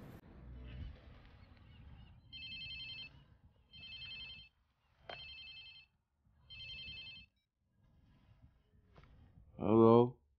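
A phone rings in the video game Watch Dogs Legion, four evenly spaced electronic trill bursts at moderate volume, followed by a voice briefly answering at the end.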